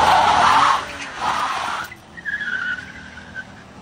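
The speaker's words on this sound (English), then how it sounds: "I would say that was a one wheel burnout because apparently this doesn't have posi track." A 2018 Honda Odyssey minivan doing a one-wheel burnout with traction control off, its tire squealing loudly in two close bursts before fading into a thinner, wavering screech.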